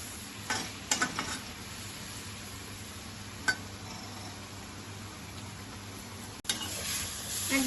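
Shrimp in poppy seed paste cooking down in a pan, a low, even bubbling hiss with a few faint scrapes and one thump near the end, quiet and without speech.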